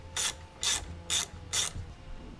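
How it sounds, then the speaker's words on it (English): Four evenly spaced bursts of ratchet clicking, close and clear, as a ratchet works loose the strut bar bolts on a Volvo V60 Polestar. "I'm going to undo the strut bar on both sides first."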